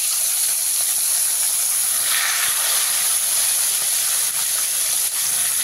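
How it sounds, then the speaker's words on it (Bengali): Tilapia fish frying in hot oil in a pan, giving a steady, loud sizzling hiss throughout with no speech. "এইভাবে আপনারা বাকি মাছগুলোও ভেজে নেবেন।"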